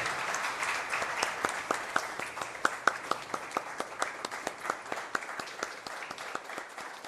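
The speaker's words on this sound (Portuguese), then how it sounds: "Pediria a todos uma salva de palmas." Applause at the close of a municipal council ordinary session, a group clapping in a brisk, somewhat sparse rhythm with individual sharp claps standing out, steady and moderately loud throughout with no talking.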